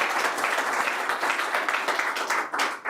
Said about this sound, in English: Round of applause for Andy Masters.